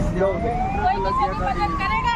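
At a roadside car accident scene, a fire engine siren wails with rising, sweeping tones, loud and steady, while people talk over it.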